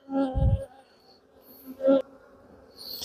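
Honeybees buzzing around an open hive during an inspection, brief intermittent buzzes close to the ear with quiet gaps and a few faint clicks and knocks, no talk.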